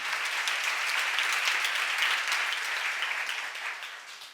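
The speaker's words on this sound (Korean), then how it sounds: "박수로 나와주세요." Sustained congregational applause at a church seminar, loud and dense clapping throughout that tapers slightly at the end.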